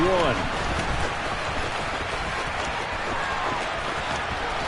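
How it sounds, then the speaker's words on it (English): Steady rain falls over an outdoor Eagles vs Bears football game, a constant broadband hiss that holds at an even level throughout, with a faint voice briefly audible near the start. "The rain set to continue as we are underway in the second half."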